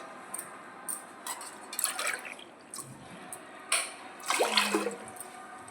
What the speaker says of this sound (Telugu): 2 గ్లాసులు వాటర్ వేస్తాను